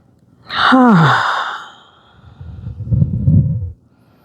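A slow breath during pranayama yoga practice, beginning as a voiced, sigh-like exhale that trails into a softer, breathy rush of air. It is close and fairly loud, with no talk.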